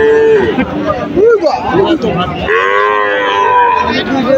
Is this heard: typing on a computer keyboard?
no